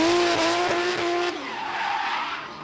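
A drift car skids through a big left-hand sweeper at a D1NZ pro championship qualifying session in Tauranga, tyres squealing loudly over a steady engine tone that fades as it finishes the lap.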